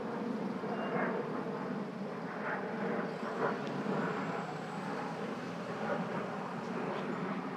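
An airplane flying overhead outdoors, a steady, broad roar that fills the whole stretch at moderate loudness, with faint voices and ambient noise around it.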